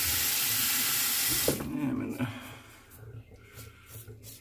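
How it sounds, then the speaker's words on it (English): Tap water runs into a sink while a Dovo Shavette razor with a green insert is rinsed, a steady broadband rush that cuts off abruptly about a third of the way in, leaving quieter splashing and handling noise. "Let me get rinsed off here."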